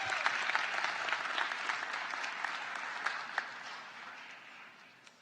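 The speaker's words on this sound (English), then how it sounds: "Please, another round of applause" Audience applause fills a commencement ceremony hall, a steady, moderately distant wash of many hands clapping with a few sharper claps standing out, holding evenly for about five seconds before beginning to thin.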